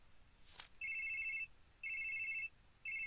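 Telephone in a video game rings with an internal call: three evenly spaced electronic trills after a brief sharp chime, clear and alone against a quiet background.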